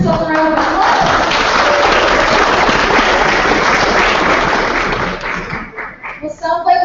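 Young delegates at an IGMUN Model UN conference opening ceremony burst into loud, dense applause that holds steady, then thins into scattered claps and voices at the end.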